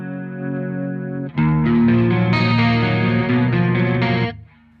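Soldano SLO-100 amp with the preamp gain at maximum, giving a clean guitar tone with chorus. A held chord swells into a louder strummed passage with a shimmering wobble, then cuts off and rings out faintly.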